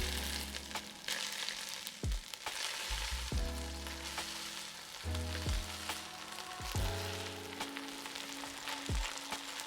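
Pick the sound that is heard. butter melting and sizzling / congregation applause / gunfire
butter melting and sizzling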